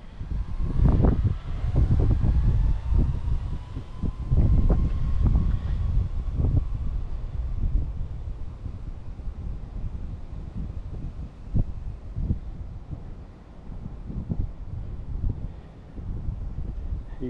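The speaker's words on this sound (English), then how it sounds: "A little windy." Wind gusts outdoors buffet the microphone in a steady low rumble for the whole stretch, with a faint motor whine drifting underneath from a Traxxas HOSS 4S RC truck running speed passes.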